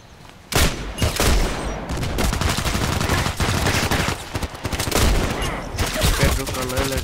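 IZH 43 double-barrel shotgun blasts in the online shooter Contract Wars, loud rapid booming shots after a quiet opening, mixed with other in-game gunfire and clatter.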